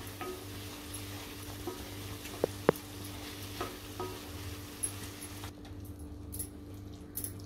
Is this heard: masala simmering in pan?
yes